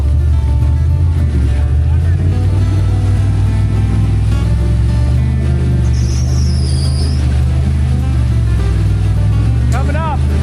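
Truck engine straining and revving off-road while towing a gooseneck trailer on a long trek, a loud low rumble running throughout with people talking over it.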